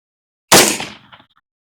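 A single sharp shot from an M4A1 rifle fired at a 250-yard target on an outdoor range, loud and close, with a short decaying echo trailing off afterward.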